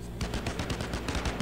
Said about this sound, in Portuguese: Muito tiro aqui na frente.